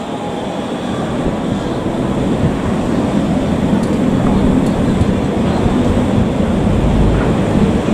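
A loud, steady rumble and roar of trains crossing a bridge in Lisbon, dense and continuous, with faint metallic clicks above the noise.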